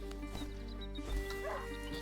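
A hunting dog in the video game A Plague Tale barks a few times amid a dense, steady backdrop of game music and low rumble.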